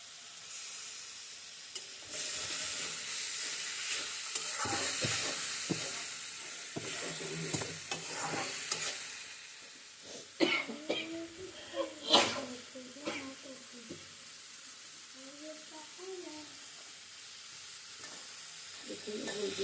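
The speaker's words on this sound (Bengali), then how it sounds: "সুন্দর করে মশলাটি কষিয়ে নিব" Spice masala being stir-fried in a pan, a steady sizzle with scraping stir strokes that grow sharper and more clattery toward the end, heard up close with some background voice.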